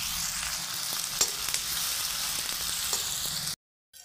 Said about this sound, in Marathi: आता एक 5 मिनिटं याला मी फ्राय करून घेणार आहे